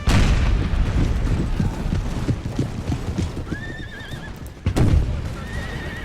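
Cavalry horses whinny amid clip-clopping hooves and distant battle booms in an Imperial Splendour Russian campaign battle, with two clear neighs rising above the rumble.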